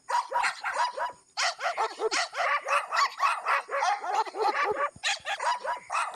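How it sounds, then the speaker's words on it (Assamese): A digital dog-bark effect from a Google search trick plays a quick run of sharp, loud barks and yips in tight clusters, with a brief gap before a final burst. "কুকুৰে খোজ পেলাইছে আৰু কুকুৰ ভুকিব ধৰিছে"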